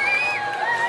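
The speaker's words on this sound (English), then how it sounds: "I think it's the most enthusiastic crowd we've seen since the race started in Spain. Making plenty of noise" A lively, enthusiastic crowd at the Sanya Haitang Bay in-port race departure ceremony for the Volvo Ocean Race makes a steady, continuous wash of cheering and whoops, sounding fairly close and full throughout the moment.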